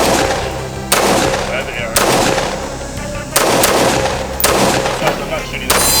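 Loud, close rifle shots from a KHAOS AR rifle by Zaviar Firearm, fired one at a time at roughly one-second intervals, with booming reports ringing out outdoors and a brief spoken word between them.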